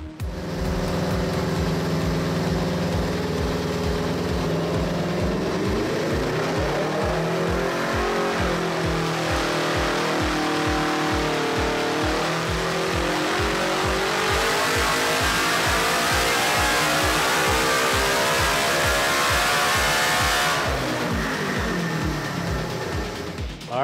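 A Polaris RZR XP 1000 engine with a titanium muffler revs on a dyno, rising steadily in pitch through a long pull to a high roar, then easing off at the end, loud and close with no talking.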